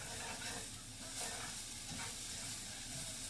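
Chopped bacon sizzles steadily in a frying pan while being stirred, a continuous close hiss and crackle with soft scraping movements throughout.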